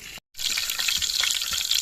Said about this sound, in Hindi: ये रहा हमारा लहसुन जो कि तड़का बन रहा है, तैयार हो रहा है।